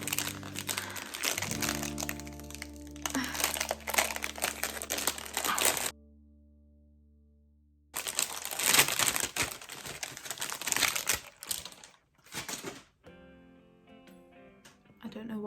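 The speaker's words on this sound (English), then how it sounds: "I'm just gonna get it out of the plastic." Crinkling and rustling of plastic packaging being torn off a Morphe Eye Stunners six-piece eye brush set, loud and close, interrupted by a short gap of quiet music before more crackling bursts.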